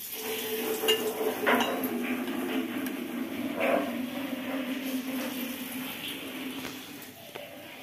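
Potato bhaji (aloo pakoda) frying in hot oil: a steady, close sizzling hiss with occasional utensil clinks and stirring scrapes, no voices.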